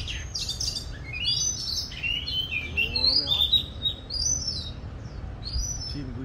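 An oriental magpie robin sings varied whistled phrases and chirps nearby, with a low murmur of voices in the background.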